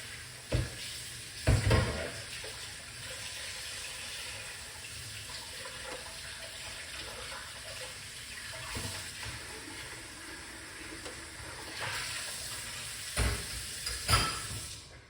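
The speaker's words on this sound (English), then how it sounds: "Let's get the lemon juice, lemon and the ginger. Wash them off." Lemon and ginger are rinsed under running tap water, a steady rushing hiss of water with a few louder splashes and knocks near the start and end, close by and with no talk.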